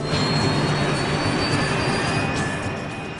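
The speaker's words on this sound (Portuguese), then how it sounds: "Hoje, eles estão pilotando um jato de ponte aérea BAE-146 de construção britânica." A British-built BAe 146 regional jet with turbofan engines, a steady loud whining roar with a high tonal whine on top, close and constant, fading slightly at the end.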